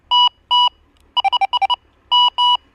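Clean electronic beeps from a fishing bite alarm in a pattern: two long tones, a rapid burst of six short pips, then two long tones again, loud and close with no talk.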